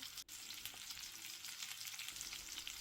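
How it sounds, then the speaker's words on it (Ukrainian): Steady crackling sizzle of hake fish frying in hot oil in a pan until golden, continuous and close, with no voices. "Обсмажили рибку до золотавої скоринки"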